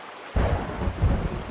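Thunder cracks and rumbles over steady rain in the video game A Space for the Unbound, starting suddenly from quiet and swelling again a moment later, loud and close, with no voices.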